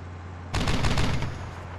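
Recoilless rifle firing in Steel Beasts: a sudden loud blast cracks out of a low engine hum, followed by a rattling, crackling burst of impacts that fades back into the steady drone.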